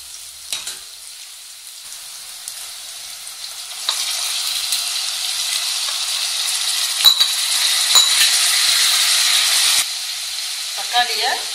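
Tomatoes dropped into a pan of onion and ginger-garlic paste for a Tamil quail egg gravy, setting off a loud, steady sizzle that swells after a few seconds and carries on with occasional scraping and stirring clinks.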